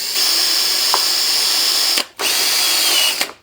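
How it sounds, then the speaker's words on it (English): A power drill whines steadily while boring a plug-sized hole with a step bit, pausing briefly near the end before spinning up again, loud and close. "So I'm just going to drill a hole right there."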